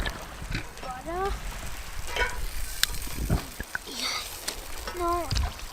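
Butter sizzles in a pan as a soft, continuous hiss under voices, with some louder clicks and bumps scattered through it.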